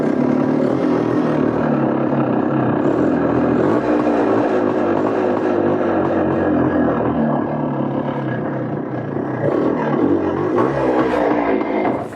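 A restored 1973 Yamaha DT3 motorcycle engine runs loud and close for the whole twelve seconds. Its raspy exhaust drone stays fairly steady, dipping slightly near the end, with no clear rev peaks and no voices.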